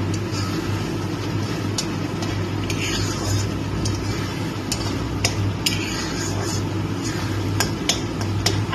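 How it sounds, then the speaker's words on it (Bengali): Spices for a duck egg curry stir-fried in a pan, with a steady soft sizzle under repeated scraping and clinking strokes of a spatula against the metal, close and continuous. "এবার এটাকে ভালো করে আমি কষাবো।"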